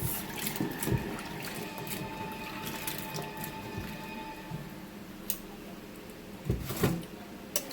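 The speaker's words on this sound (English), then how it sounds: "So I'm just going to give them a little thorough rinse" Canned chickpeas being rinsed under water in a strainer, soft splashing, dripping and squishing with occasional louder sloshes and knocks, moderately close.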